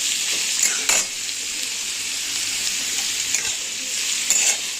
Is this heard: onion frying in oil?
yes